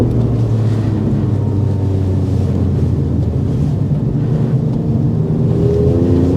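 A 2024 Alfa Romeo Stelvio Quadrifoglio's 2.9-liter twin-turbo V6, rated at 505 horsepower, roars steadily on a tight, technical course, its note rising as it accelerates down a straightaway, with wind buffeting throughout and no talk.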